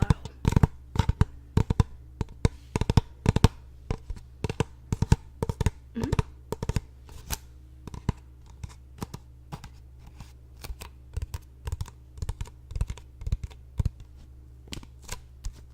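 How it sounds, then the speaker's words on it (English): Tapping on a hollow surface, a steady series of sharp, close taps in irregular bursts and rhythmic runs, crisp and quiet against a faint low hum, with no talking. "what about tapping on a surface that is rather hollow?"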